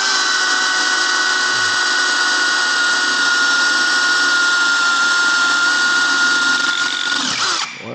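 A hand drill bores into a motorcycle part, whining loudly and steadily for several seconds before winding down abruptly at the end, with no talking.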